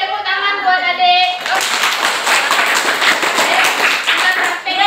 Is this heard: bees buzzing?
no